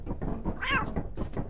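A cat in the video game Lethal Company gives a single clear meow midway through a short stretch of muffled knocks and thumps, heard close with no talk.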